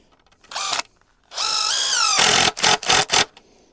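A power drill drives screws into a wooden chicken coop, with one short whir, a longer sustained run that climbs in pitch, then several quick bursts of the motor close by.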